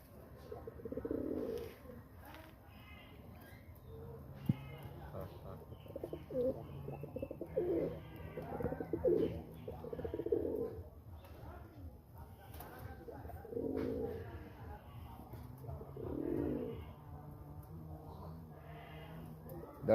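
A male Biscuit pigeon, a Rajshahi high-flyer, coos repeatedly in soft, throaty bursts at close range, with short pauses between calls and a faint background murmur.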